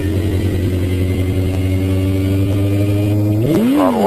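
A sport motorcycle engine held at a steady high drone, then revving up sharply near the end as a wheelie is done, loud and close with no talking.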